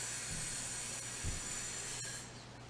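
A voice imitates a quiet lawn sprinkler with a steady, soft, breathy hiss that is held evenly for about two seconds before fading.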